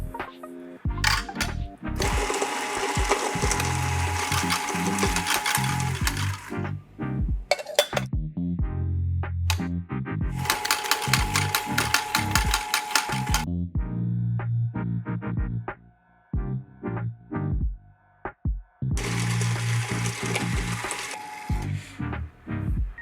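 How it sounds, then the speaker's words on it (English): Coffee grinder grinding cleaning tablets through its burrs, loud harsh bursts of grinding in three long runs separated by clattering, clinking and shorter spurts of motor noise. "After we've grinded up our grinder tablets through"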